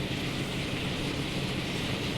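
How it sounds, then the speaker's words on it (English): Maybach diesel engines of a locomotive thunder at full power, a dense, even roar with a high aircraft-like whine, sustained and close for the whole moment. "Listen to those Maybach engines."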